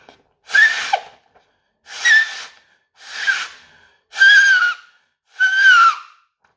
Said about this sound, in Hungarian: De mit lehet csinálni egy ilyen A4-es papírral? Hát mondjuk például lehet vele fütyülni.